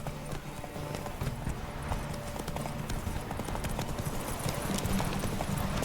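Geralt's horse Roach galloping in The Witcher 3, steady rapid hoofbeats throughout, fairly close and consistent, with faint game ambience.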